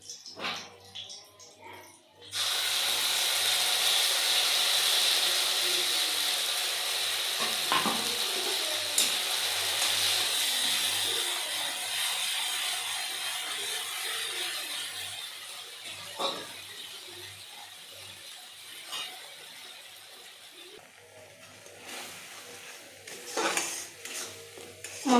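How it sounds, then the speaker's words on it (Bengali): Ground spice paste with nigella seeds and green chilies frying in a pan for begun basanti, with a steady sizzle and intermittent spoon scrapes and pan clinks, a long stretch heard alone. "মশলাগুলোকে কিছুক্ষণ ভালো করে কষিয়ে নেব।"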